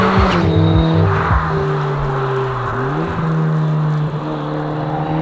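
A light Lotus Elan M100 sports car, front-wheel drive with about 170 horsepower, accelerates hard on the road. Its engine note rises and shifts continuously at close range, loud and steady, with no talking.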